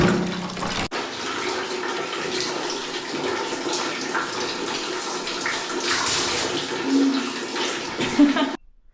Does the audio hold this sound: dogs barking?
no